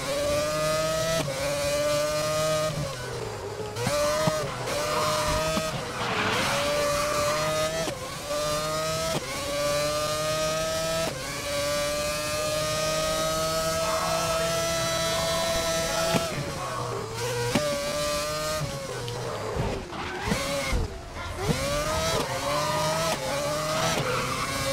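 A Renault R26 race car engine in the GRID racing game screams at high revs without a break. The pitch climbs and dips sharply through gear changes and corners, loud and close, and it runs alone for the full stretch.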